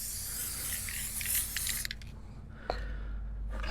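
An aerosol can of WD40 chain lube sprays onto a motorcycle chain in a close, steady hiss that cuts off partway, followed by a quieter stretch with a faint click.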